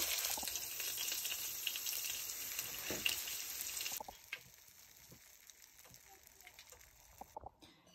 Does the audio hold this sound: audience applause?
no